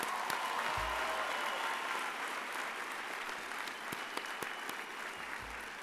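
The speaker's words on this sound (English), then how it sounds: "let's give you a round of applause." Sustained applause from families and graduates at a college commencement ceremony, a steady dense wash of clapping filling the hall for several seconds with scattered sharper claps.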